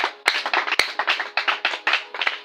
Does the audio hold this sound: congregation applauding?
yes